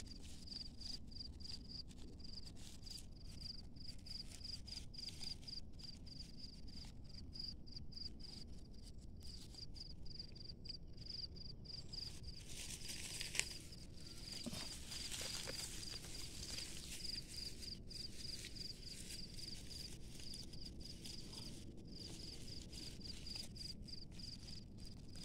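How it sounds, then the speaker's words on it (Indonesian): Melondon crickets chirp in a steady, fast trill that runs unbroken throughout, close and fairly even, with faint rustling and handling noises beneath and a brief knock near the middle. "Oh, ternyata ini jangkrik Melondon ya"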